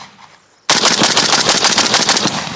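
Rapid gunfire from a Zastava M77 AK-pattern rifle in .308, a loud close burst of evenly spaced shots that begins abruptly after a quiet moment and continues for about two seconds.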